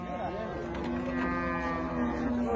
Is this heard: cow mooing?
yes